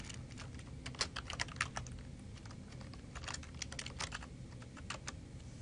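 A computer keyboard clatters as someone types a file name, a quick irregular run of crisp keystrokes, close and fairly quiet, with no voice over them.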